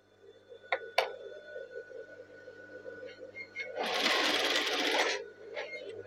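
A sewing machine back-stitching a sleeve cuff on hand-drawn batik, with a few soft clicks and then one loud mechanical whirring burst of about a second and a half, close up and quiet around it.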